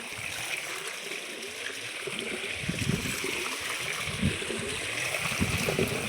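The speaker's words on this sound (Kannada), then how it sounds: "ನೋಡ್ರಿ ನೀರು ಈಗ ಹೊಡಿತದ" Water rushing and trickling steadily into a farm field during irrigation, a continuous close splashing flow with no speech.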